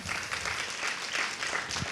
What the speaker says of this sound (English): I think it's worthy another round of applause for Dr. Mike Licona